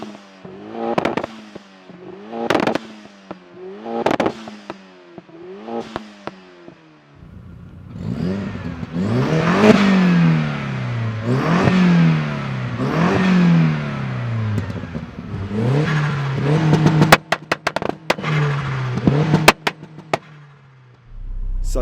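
Turbocharged 1.8-litre 20-valve engines rev hard as they launch through a 0-60 run, with repeated rising and falling revs, sharp pops and crackles, then a sustained loud pull that ends in abrupt bangs.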